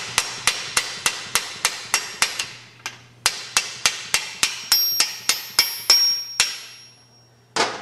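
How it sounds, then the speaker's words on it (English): A hammer drives a bearing into a transmission shaft through a 3/4 inch deep well socket, during a 2-3 gear swap; roughly twenty sharp, close metallic strikes land at a steady pace with a brief pause midway, ringing brightly with no talking. "I just take a 3/4 inch deep well socket, stick the bearing up on the shaft, put that on it like that, and just drive the bearing into the transmission"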